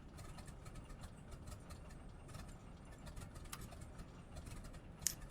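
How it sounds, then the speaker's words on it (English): The engine of a Stearman biplane in Microsoft Flight Simulator idles quietly with a low, even thrum and faint patter. "nice thrumming sound of the Stearman."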